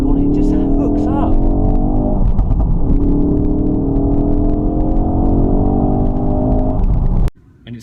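A Ford RS powers hard out of a corner, its engine note a loud, sustained climbing drone heard from inside the car, with voices talking over it before the sound cuts off abruptly near the end.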